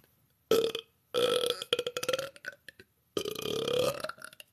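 A woman lets out a series of long, loud, gurgling burps close to the microphone, separated by brief silences.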